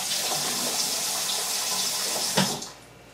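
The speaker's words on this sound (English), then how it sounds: "rinse them under cold water just to take off that salt" Cold tap water runs steadily over salted capers being rinsed in a sink, a close, loud hissing splash that cuts off near the end.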